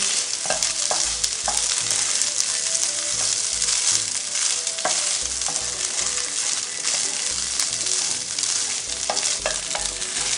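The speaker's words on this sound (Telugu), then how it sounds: "ఇప్పుడు బాయిల్ చేసుకున్న రైస్ యాడ్ చేస్తున్నాను" Boiled rice stir-frying with ginger for egg fried rice, loud constant sizzling in a pan broken by repeated scraping and tossing strokes of a spatula, up close, with no speech.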